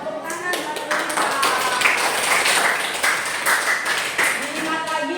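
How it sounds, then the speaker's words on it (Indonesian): Classroom applause for a pupil, steady clapping from several hands running throughout, loud and close, mixed with voices of children and a teacher talking over it. "Tepuk tangan buat Rita."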